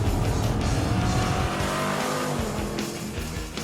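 A powerful Jeep Grand Cherokee engine revs loudly and close, its NASCAR-like growling pitch rising and falling continuously, with no talking.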